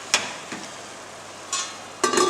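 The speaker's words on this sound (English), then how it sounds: "because I'm frying now" Chicken frying in a pot of stock for a yam pottage and vegetable chicken stew, a steady soft sizzle punctuated by a few sharp crackles and stirring clatters.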